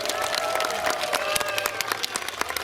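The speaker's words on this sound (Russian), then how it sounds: "Ваши аплодисменты еще раз" Audience at a Victory Day concert by a cadet corps ensemble breaks into dense, loud applause of many hands, continuous and close, with scattered crowd noise.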